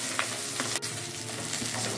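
Large red chilies sautéing in hot oil, a dense, close sizzle with crackling spits and the scrape of stirring running steadily throughout, no one speaking.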